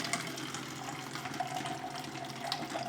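Water dispensing from a Simpure Y7P reverse osmosis system into a container: a steady, close, hissing stream pouring continuously, with no talking.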